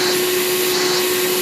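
Hoover Caddy Vac U5110-900 vacuum cleaner running with a steady, close whine and airy hiss, unbroken and alone.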